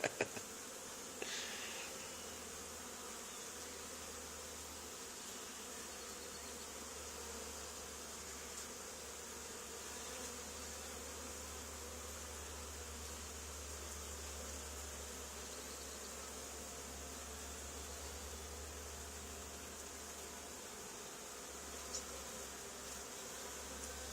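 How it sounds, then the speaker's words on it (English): A honey bee swarm resting on the ground beside an old barn gives a steady, dense buzzing that holds without a break, close and continuous, with no voices. "Bees on the ground. Bees on the ground."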